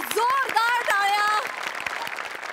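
A studio audience at a Marathi comedy show breaks into applause, a broad, steady clatter of clapping that starts under a man's sung and spoken voice and carries on alone after he stops.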